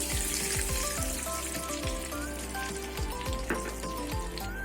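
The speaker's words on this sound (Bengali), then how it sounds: "তেল গরম হয়ে গেছে কালো জিরে শুকনো লঙ্কা তেজপাতা ফোড়নে দিয়ে দেবো" Nigella seeds, dried red chillies and bay leaves crackle and sizzle as they hit hot oil in a wok, a close, steady frying hiss with scattered pops and a faint tonal hum underneath.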